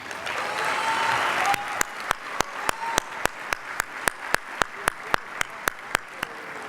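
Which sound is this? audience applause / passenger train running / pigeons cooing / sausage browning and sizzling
audience applause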